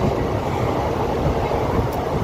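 A train runs during a journey through Medinipur, a loud, steady rumbling roar with a dense rolling texture and no talk.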